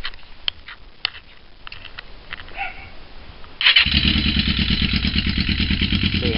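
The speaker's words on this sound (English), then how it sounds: "So I'm going to go ahead and crank it up and show you." A 1981 Yamaha 650 Maxim motorcycle with freshly synced carburetors: a few faint clicks, then the starter cranks briefly and the engine catches into a loud, steady, rhythmic idle close up.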